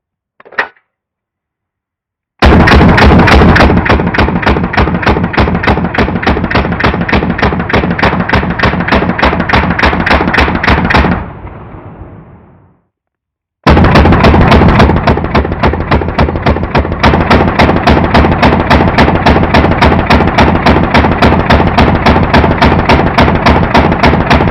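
A PWS MK111 Mod 2 rifle firing sustained fully automatic bursts during a meltdown test, very loud and close, with an opening single shot, a long rapid burst, a brief gap, then another long continuous burst.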